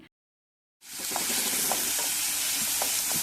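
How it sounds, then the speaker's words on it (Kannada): Egg bhurji frying and being stirred in a home kitchen pan: after a brief silence, a steady loud sizzle sets in, with several soft scraping stirs and spatula taps spread through it. "ಎಗ್ ಬುರ್ಜಿ ರೆಡಿ ಮಾಡ್ಕೊತಾ ಇದ್ದೀವಿ"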